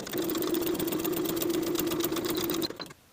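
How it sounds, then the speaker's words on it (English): A sewing machine stitches a bodice seam with a 5/8 inch seam allowance, running as a fast, steady mechanical whir for over two seconds up close, then stopping abruptly. "Sew from the dot to the bottom of the front bodice piece with a 5/8 inch seam allowance back stitching to"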